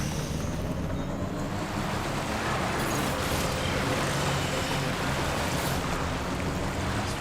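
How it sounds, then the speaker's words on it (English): Rising river water rushes in the video game Death Stranding 2, a steady broadband roar of flowing water with a windy edge, continuous and fairly loud throughout with no talking. "This river's rising, Sam."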